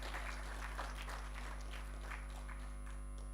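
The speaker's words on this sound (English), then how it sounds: "Let's give a clap for Professor Mwabu." Faint, sparse clapping from an audience at a University of Nairobi professors' association launch, honouring Professor Mwabu, heard distantly over a loud steady electrical hum.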